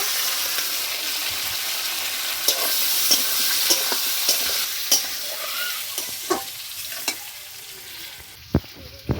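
Fried potato and pointed gourd land in a pan with cumin and chilli, giving a strong close sizzle that fades slowly while repeated spatula taps and scrapes punctuate it.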